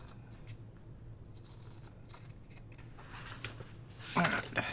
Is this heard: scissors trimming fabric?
yes